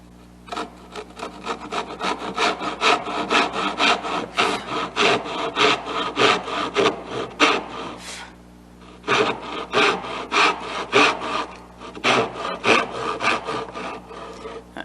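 A hand saw cuts dovetail tails in a clamped wooden board, making a steady back-and-forth rasp of repeated strokes that pauses briefly and then resumes, close and clear with no talking.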